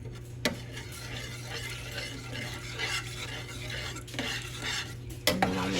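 Vegan protein broth simmers in a pot, giving a soft continuous bubbling and hiss with occasional clinks of a utensil against the pot, fairly quiet and close, with no talking.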